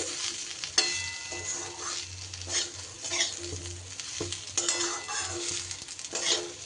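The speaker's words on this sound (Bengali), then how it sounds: "ধনে পাতাটা দিয়েও একটু মিশিয়ে নেব হালকা হাতে" Spiced potato chatpata being gently stirred and mixed with chopped coriander in a pan, soft sizzling and scraping spoon strokes with a few louder knocks against the pan, close up and without talk.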